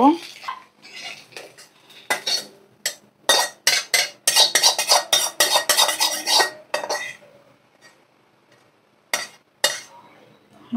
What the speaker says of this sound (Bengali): ভাজা ডিমটা আমি পাস্তার মধ্যে দিয়ে দেব।